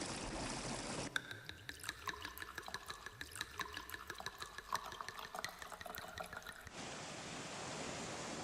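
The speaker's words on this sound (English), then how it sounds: "all of these sounds are the sounds of bubbles being made" Bubbles forming in water, a busy stream of small gurgling pops and trickling bursts, fairly faint, bracketed by steadier rushing water noise at the start and end.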